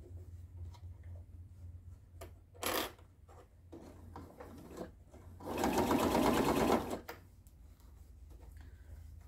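Sewing machine stitching binding around the edge of an oven mitt: a brief stitch burst, then a longer steady run of about a second and a half among quiet handling clicks, close up.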